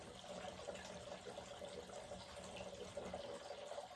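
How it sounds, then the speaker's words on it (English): Garden water fountain trickles in a steady, soft, continuous splash, fairly faint and without voices. "I was able to pull out the water fountain, and I'll be real quiet so you can listen to it for a minute."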